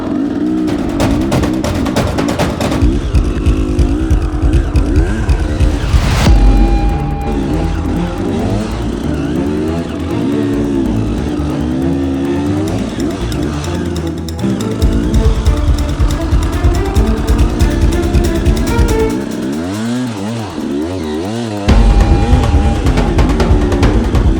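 Motorbike engine labouring up a steep rocky off-road obstacle at an enduro event, loud and close, with continuous revving that rises and falls through throttle blips, no talking.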